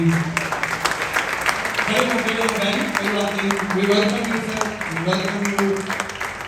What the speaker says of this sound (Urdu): ہم آپ کو تالیوں کی گونج میں ویلکم کرنا چاہیں گے